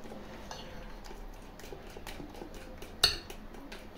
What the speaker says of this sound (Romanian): Amestec bine, bine din nou.